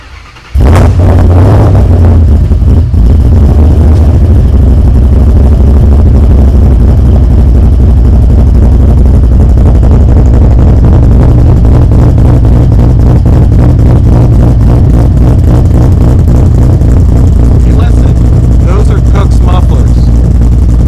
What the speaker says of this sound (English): I'm gonna fire it up. I wanna hear these cams right now.